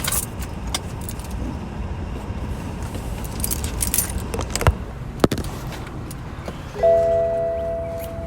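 A bunch of keys jangles in several bright, scattered bursts inside a car, over a steady low road and engine hum, ending with a sustained electronic chime tone.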